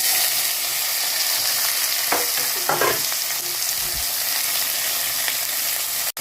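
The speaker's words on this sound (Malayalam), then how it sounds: "നമുക്ക് നല്ലോണം ഇളക്കി യോജിപ്പിച്ച് കൊടുക്കാം." Okra stir-fry (vendakka upperi) being stirred in a pan, with a steady loud sizzle throughout and scattered scraping and clinking of a spatula against the pan, close up, no voices.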